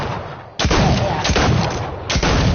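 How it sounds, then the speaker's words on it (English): Several loud sniper rifle shots from a battle royale video game, the first at about half a second and another near the two-second mark, each a heavy boom with a rolling tail, dense and close with no pause between them. "I don't know how my sniper shot went like that."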